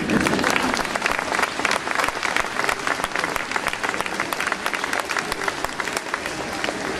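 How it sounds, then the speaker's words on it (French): Dense, sustained applause from a large audience at the Lycée français Louis Pasteur in Bogota, loud and even throughout, with no talking over it. "Vous pouvez applaudir."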